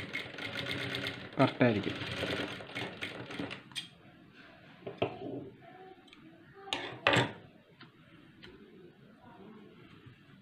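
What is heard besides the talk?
sewing machine stitching a blouse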